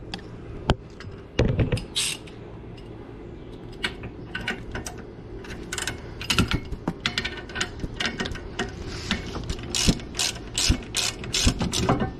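A ratchet clicks in quick bursts while backing out a brake caliper bolt on a Dodge Charger Hellcat, close and fairly quiet, the spurts of pawl clicks growing busier toward the end.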